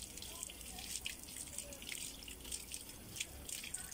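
Faint, steady stream of water running from a tap while something is washed, with soft splashes and drips under the flow and no talking.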